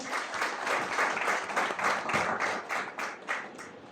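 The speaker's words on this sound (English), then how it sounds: "I would request all of you to give a huge round of applause for that" An audience at an education event claps, a moderate crowd's applause with a loosely pulsing rhythm of many hands, fairly close and sustained before easing off toward the end.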